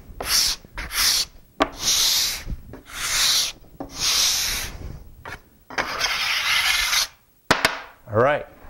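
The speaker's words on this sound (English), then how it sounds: "So I can feel the file grabbing on my cabinet scraper." A metal file is pushed in repeated long strokes across the edge of a steel cabinet scraper, each pass a close, rasping grind separated by short pauses.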